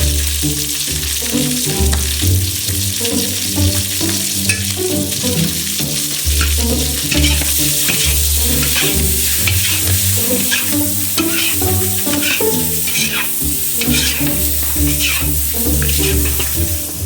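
Liver and heart fry in a pan while being stirred, giving a loud, steady sizzle with scraping stirs throughout and no talking.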